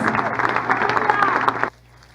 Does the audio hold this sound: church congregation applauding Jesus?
yes